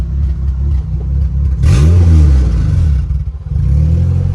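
Car engine on an AWD tuning project, idling roughly after throttle and idle adjustments, then a single sharp throttle blip revving up loud and close before settling back to a rumbling idle.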